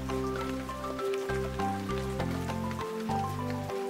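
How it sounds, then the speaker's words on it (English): Cartoon rain falls as a steady patter of drops under a bouncy musical score with stepping low notes, constant and moderately loud. "Oh, storm clouds are gathering in the sky. It looks like it's about to rain."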